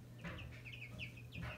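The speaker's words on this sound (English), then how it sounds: "I moved the chickens into this big bin that Mary and I went to pick up yesterday." Soft, high chirping calls of chicks repeat quickly in short bursts, close by and faint, over a low steady hum.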